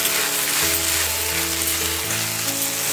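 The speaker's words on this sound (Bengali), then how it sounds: "আবারও নেড়ে নিচ্ছি।" Piring greens with small fish and ground mustard paste frying in a pan, a loud dense continuous sizzle like rain, with faint low tonal hum beneath and no talk.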